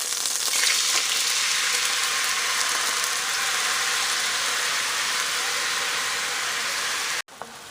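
Steady, loud sizzling of food frying in a pan fills the clip, continuous and close, cutting off abruptly near the end.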